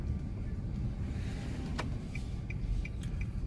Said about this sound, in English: Driving down this road.